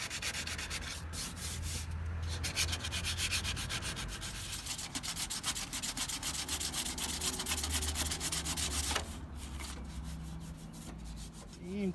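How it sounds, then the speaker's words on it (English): A painted car valve cover from a 240SX engine bay is sanded back down by hand before a respray, giving a steady, close, rasping back-and-forth scrub that runs continuously with no talking. "So now we're sanding it back down, gonna respray it."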